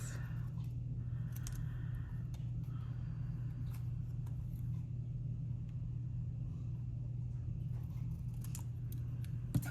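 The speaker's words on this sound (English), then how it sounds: "I'm going to just use my scissors and just cut this straight across." Scissors cut straight across a piece of paper in small, faint snips that sit over a steady low engine-like hum.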